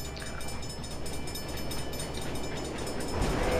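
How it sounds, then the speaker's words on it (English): Steam train passing by in the racing video game The Crew, a steady, loud rumbling rail roar with rattling wagons that swells toward the end, heard alone without talk. "It's a steam train!"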